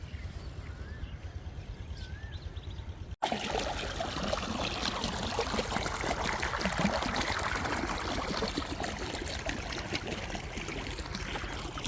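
Water pumped by a Peter engine pours and splashes into a flooding farm field, a steady rushing flow that jumps louder after a sudden cut a few seconds in and continues close and strong.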